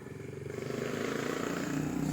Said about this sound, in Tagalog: Ay, motor.